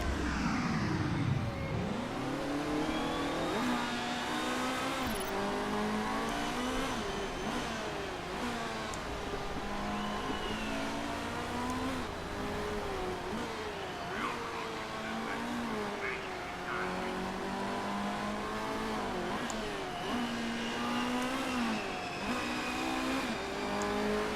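Race cars in Motorsport Manager scream past in a continuous stream of high revving engines, pitches sliding up and down through gear changes, loud and layered with several cars overlapping.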